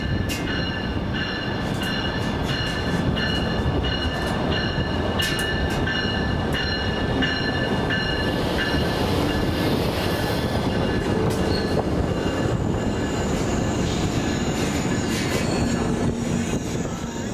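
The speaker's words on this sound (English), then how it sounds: "The next train to pass would be the westbound Amtrak Missouri River Runner." A westbound Amtrak Missouri River Runner passenger train rolls past near and loud, a steady broadband rumble with wheel squeal and faint clickety-clack throughout, no voices.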